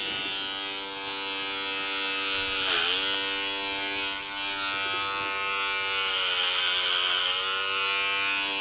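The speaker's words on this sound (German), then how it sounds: "Damit rasiere ich dich gleich richtig." An electric razor shaves a person's hair, giving a steady close-up buzz whose pitch dips briefly as the blades bite. It runs continuously without pause.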